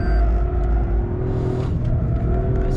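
A Toyota GR Yaris accelerating hard out of a corner on a closed road, its engine a loud, close, continuous roar with a rising tone and rumbling low end, heard alone without voices.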